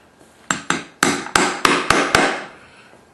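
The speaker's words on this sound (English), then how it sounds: "My hammer," A hammer striking a 13/64 hole punch on a workpiece for a DIY back quiver, eight sharp metallic blows in a steady rhythm, close and loud, each ringing briefly before the next.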